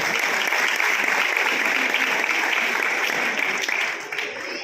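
Loud, dense audience applause at a Christmas church program during a turban-tying honor ceremony, a continuous roar of many hands clapping that eases slightly near the end.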